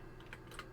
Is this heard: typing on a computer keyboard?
yes